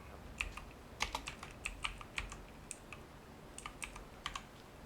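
Quick irregular clacks of a computer keyboard as code is typed, steady bursts of keystrokes close by with no talking.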